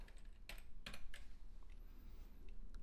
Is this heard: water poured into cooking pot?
no